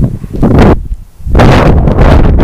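Loud gusts of wind buffet the microphone outdoors beside a tree farm in rough, roaring bursts, broken by a brief lull in the middle.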